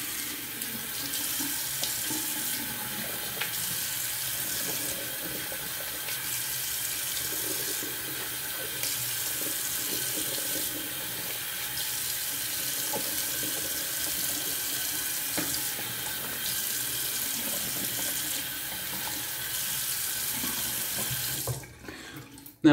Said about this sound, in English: I'm going to rinse off the face real quick.